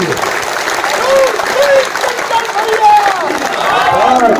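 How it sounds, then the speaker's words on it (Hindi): A crowd at an Indian political rally claps to welcome guests, a loud, continuous burst of applause mixed with crowd noise and voices. "आप लोग तालियां बजा करके इनका स्वागत करेंगे।"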